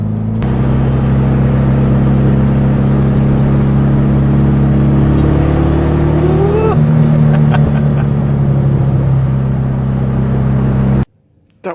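A BMW E85 Z4 accelerating hard through the gears, its loud engine note climbing steadily, dipping at a shift and climbing again before cutting off abruptly near the end.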